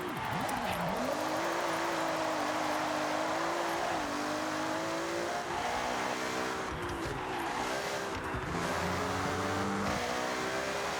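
Ferrari F80 in the racing game Forza Horizon accelerates hard, its engine note climbing through gear after gear in a continuous loud roar with rising and dropping pitch sweeps.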